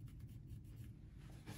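A pencil scratches short rubbing strokes across a carved wooden hen mallard decoy body, faint and close, with a brief scraping rhythm.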